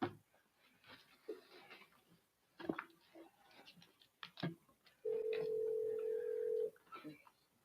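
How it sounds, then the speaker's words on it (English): Telephone tone on a council meeting speakerphone line as a caller dials in, a steady loud beep lasting under two seconds amid quiet room noise, clicks and soft voices. "And then we will let Ms. Lloyd sign in via phone here so Grace can document."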